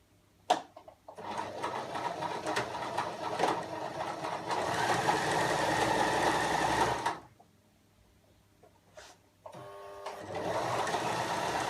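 A sewing machine runs steadily for about seven seconds while stitching the shoulder seam of a girl's dress. It stops, then starts again for a shorter burst, with clicks at the start and between runs.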